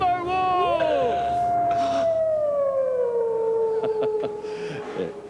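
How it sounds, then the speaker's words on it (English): A timber wolf gives a long, sliding howl that rises then slowly falls, close and prominent, with brief clicks and a faint murmur of a crowd behind it. "the Lord of the Northwood, Canis lupus, the Timber Wolf!"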